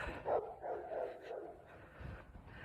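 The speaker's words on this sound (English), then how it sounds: "Oh, look at them dogs." Several faint, distant dog barks and yips come in a quick run outdoors during a walk, with soft background noise around them.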